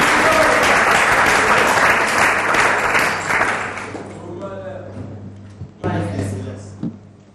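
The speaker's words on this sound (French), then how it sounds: "Si on peut applaudir très fort pour l'artiste." A live comedy show audience applauds loudly for an artist, dense clapping that fades out after about four seconds, followed by a voice speaking over a low hum.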